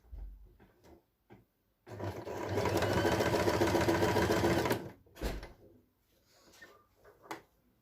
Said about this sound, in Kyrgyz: Мына ушундай тартипте тигип баштайбыз.